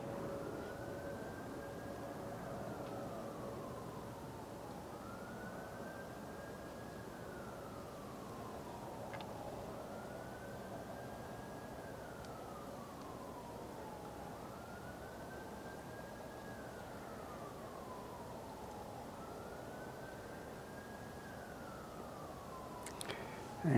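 Wailing emergency vehicle sirens rise and fall in a slow, repeating cycle from a distance, steady and continuous over a quiet backyard ambience.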